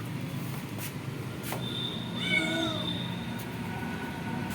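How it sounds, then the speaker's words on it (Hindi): A single drawn-out cat meow rises and falls partway through, moderately near, against a steady hiss of rain outdoors where a kitten is sheltering. "बिल्ली है, बिल्ली की आवाज़ आ रही है"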